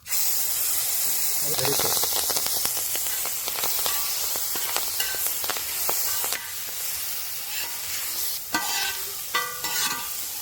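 Sardines frying in leftover oil in a pan, turned one by one, give a steady close hiss and crackle with sharper sizzling bursts and a few clinks, under faint speech.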